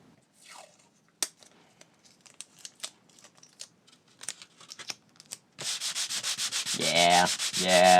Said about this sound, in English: Well, I guess I sand these down. I think I'll use a 120 grit.